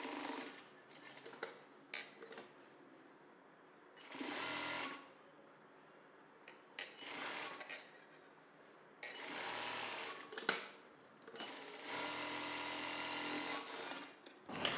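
A sewing machine stitches a folded blouse belt in several bursts of running, near and loud, with short pauses between them and no talk.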